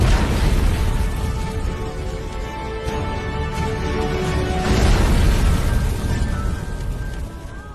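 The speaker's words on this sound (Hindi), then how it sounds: "एक तेज धमाके के साथ रात के ठीक 9:34 पर प्लेन क्रैश हो गया" A loud, sustained roaring blast from a Boeing 707 crashing into a hillside fills the whole stretch, dense low rumble with a surge around the middle before it tapers off.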